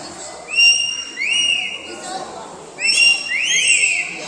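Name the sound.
parrot imitating a whistle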